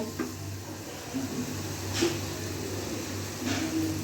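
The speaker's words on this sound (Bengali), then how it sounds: "ভাজা ভাজা হয়ে গেছে এখন আমি কাঁঠালের বিচি আলুটা একটু" Potatoes and jackfruit seeds fry in spice paste in a pan, a faint steady sizzle with a few soft scraping stirs, close and low in level.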